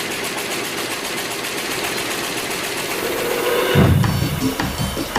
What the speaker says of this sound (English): Lipton's newest generation of tea bagging machines is 3 times as fast as the older models.